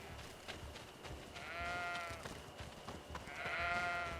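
Sheep bleating in the video game GreedFall, a couple of wavering bleats rising out of quiet ambient game sound, fairly soft and with no talk.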